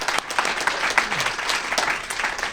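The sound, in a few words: audience applause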